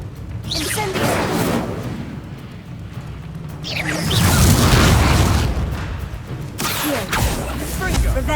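Fiery spell blasts from the wizarding video game Hogwarts Legacy: a low rumbling boom around the middle with a rushing whoosh, then another burst near the end, set among game effects and a voice calling out.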